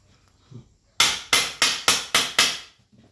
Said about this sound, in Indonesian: Palu pakai palu lagi ini.